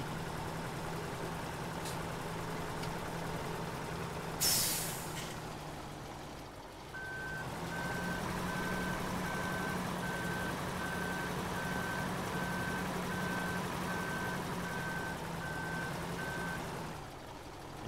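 A logging truck in Farming Simulator 17 idles with a low, steady engine rumble while a clear, evenly spaced backup beeper sounds repeatedly through the middle stretch, alone without talk.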